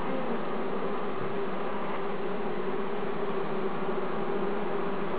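Honeybees, Macedonian strain, humming steadily on an opened hive frame with brood, a thick, even buzz that stays loud and close throughout without talk.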